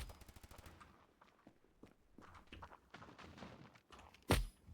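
Gunfire in the mobile shooter game Standoff 2 plays as a rapid automatic burst, followed by scattered shots and game effects, with a sharp loud blast near the end. No voices are heard.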